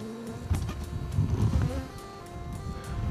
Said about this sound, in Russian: Пчелы летают достаточно активно, приносят нектар и пыльцу.